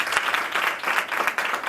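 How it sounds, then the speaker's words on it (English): Loud, continuous applause from an audience at a university research day, many hands clapping close together in a short burst. "A round of applause again."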